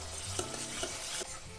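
Roasted cashews stir into papaya halwa in a pan, giving a soft, steady sizzle with light scraping ticks, faint and alone.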